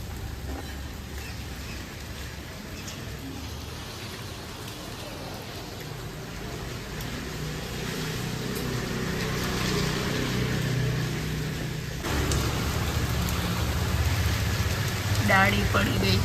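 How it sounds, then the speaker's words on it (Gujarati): Steady morning rain falls outdoors during a windy downpour that brought down a tree branch, a continuous even hiss that grows slightly heavier toward the end, with faint background sounds. "કેવો મસ્ત વરસાદ આવે છે."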